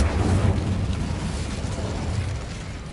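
A fire spell cast in the Hogwarts Legacy video game, heard as a loud, sustained whooshing, rumbling burst of flame that swells at the start and then holds steady for a few seconds.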